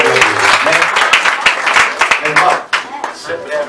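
A church congregation claps hands together in worship, loud dense clapping close by with a loose shared rhythm, mixed with voices and singing throughout.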